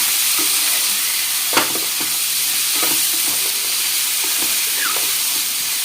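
Bitter gourd frying with chili powder and salt gives a constant loud hiss of hot oil, with a few scattered spoon clinks and stirring knocks close by, no voices.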